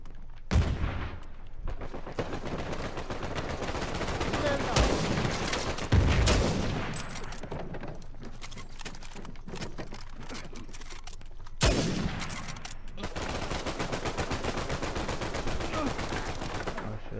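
Rapid automatic gunfire in an Uncharted 4 multiplayer match, long dense bursts of close, loud shots broken by a few heavier booms, continuing almost nonstop with no talk over it.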